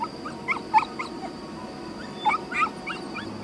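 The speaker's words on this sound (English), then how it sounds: "The dog yelps." A dog yelps in a few short, high-pitched bursts, a little distant, over a quiet steady background.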